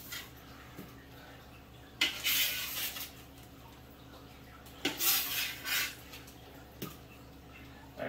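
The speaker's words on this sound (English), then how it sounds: "I'm just going to take this and just shovel it on in here." Metal utensils scrape and clink against a pot in a few short bursts, with quiet pauses between the scoops.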